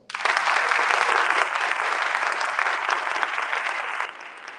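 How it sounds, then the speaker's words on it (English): An audience applauds a conductor at a choral conducting masterclass, a dense, loud, steady wash of clapping that holds evenly, then thins slightly toward the end. "Let's give her a round of applause."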